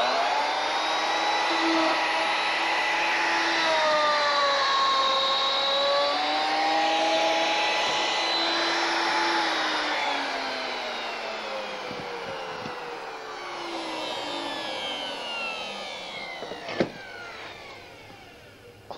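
Triton power tool cuts stop trenches into a wooden staircase stringer clamped on a Triton table, a loud, steady whining motor drone whose pitch rises and falls as it bites, then winds down near the end.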